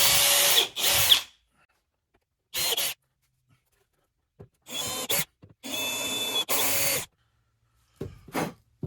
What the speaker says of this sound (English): I'm pre-drilling these holes at the about 3/4 of an inch from the top of the bottom board into the end of the brace